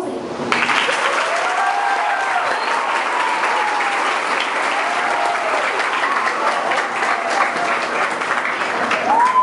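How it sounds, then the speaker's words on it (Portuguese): A crowd applauds an honoree at a tribute ceremony, steady dense clapping that fills the room for the full stretch with only faint voices mixed in. "E hoje os aplausos são para você."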